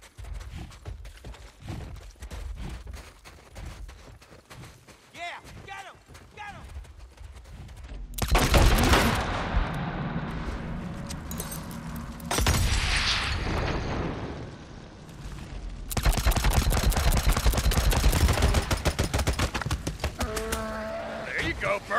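Rapid gunfire erupts in Days Gone on the PS4, fought on Hard against a Nomad and a Rager Bear, with sparse shots first, then loud dense bursts of continuous firing separated by brief pauses.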